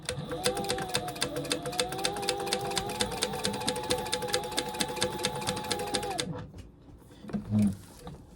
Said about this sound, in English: And we're going to back stitch at the beginning and the end.